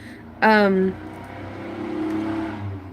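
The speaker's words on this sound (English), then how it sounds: "Classic traffic noises." Outdoor traffic rumbles low and steady throughout, with a brief louder tonal sweep near the start as a vehicle or horn stands out over the constant road noise.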